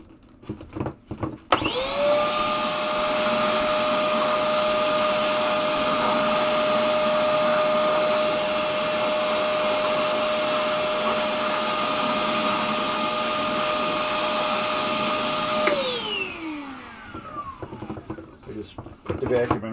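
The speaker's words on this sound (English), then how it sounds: "We just put the vacuum in reverse and" A vacuum cleaner running in reverse blows dust off the motor board of a 1974 Williams Lucky Ace pinball machine, a loud steady whine that holds for about fourteen seconds, then spins down as the motor is switched off.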